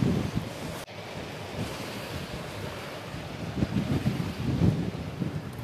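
Ocean waves wash along the seashore at Minamiise in Mie Prefecture, a continuous surf wash roughened by wind buffeting the microphone, with a sharp thump near the start.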